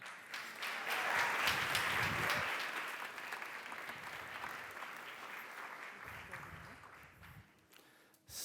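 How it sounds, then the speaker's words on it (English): A conference audience at a startup pitch session applauds a presenter, the clapping swelling quickly to a full burst and then fading gradually over several seconds as a voice begins under it. "Please give a warm applause to Myco."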